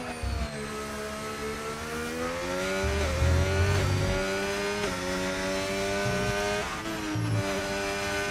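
A Formula 1 car runs a push lap at Bahrain pre-season testing, its high engine whine rising and dropping through gear changes, steady and loud throughout.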